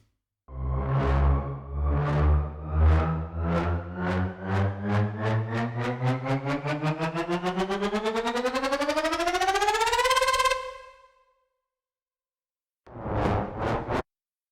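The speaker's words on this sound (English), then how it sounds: "And onto the riser section." A trailer-style riser from a Kontakt sound-design library climbs steadily in pitch with pulses that speed up, swells loud, then cuts off abruptly. After a pause of near silence, a short final burst follows.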